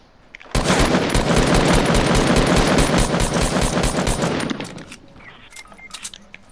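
Fortnite gunfire: a sustained, loud rapid burst of automatic shots lasting about four seconds, then cutting off to quieter game sounds.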